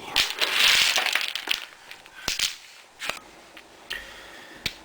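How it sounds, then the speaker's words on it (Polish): Heartnut shells are cracked by hand on a wooden nut-cracking board, giving sharp, separate cracks and crunches at close range, irregularly spaced and heard without talk. "Tłuczenie orzecha sercowatego."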